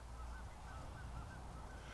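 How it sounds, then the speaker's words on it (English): Canada geese honk faintly and distantly while fighting near a barn by a lake, under steady wind noise. "Those Canada geese are fighting again."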